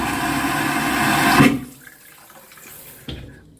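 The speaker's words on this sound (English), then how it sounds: "And it just does this suction noise. This toilet does exactly the same thing." A hotel toilet in the Andaz London Liverpool Street flushes with a loud, steady rushing suction that cuts off abruptly, followed by quiet gurgles and a brief final whoosh, close and with no voices.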